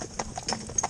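Horse hooves clip-clop in a quick, even rhythm of about four close, fairly loud strikes in under a second, from a once-driven cob with behavioural issues being trained.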